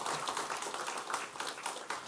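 A church congregation claps during a Sunday service, a brief, dense wash of applause heard from a slight distance, steady and unbroken throughout.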